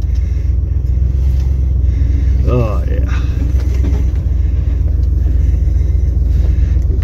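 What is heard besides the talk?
Lincoln Continental car engine rumbling while moving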